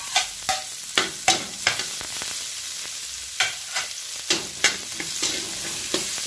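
Garlic and onion frying in a pan for a ground pork torta, a constant close sizzle with regular scraping strokes and metallic taps from a spatula stirring, no one speaking.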